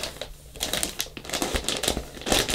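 Plastic bag packaging around a MIRA Safety CM-6M gas mask crinkles and crackles in a quick run of close, sharp rustles with no talking.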